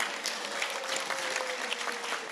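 An audience applauds a long-serving school teacher at a parent night, steady clapping filling the room at moderate level from start to finish.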